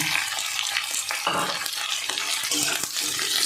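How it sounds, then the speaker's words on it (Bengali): Capsicum with green and ripe chillies fries on a high flame in a pan, giving a steady, close hiss of sizzling oil broken by scraping stirs, with no voices. "এটা হাই ফ্লেমে 2 মিনিট ভেজে নেব"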